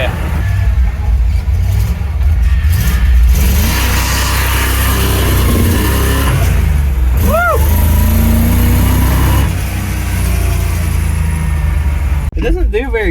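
A 1975 Chevrolet C10 pickup revs hard on gravel as its tires spin, the engine roaring loud and close for several seconds while people talk over it.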